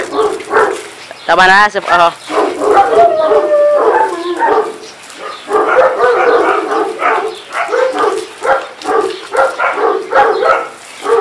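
A dog yips and whimpers when water is sprayed on it, giving a sharp high yelp early on, then short cries mixed in with someone talking close by over the rest of the clip.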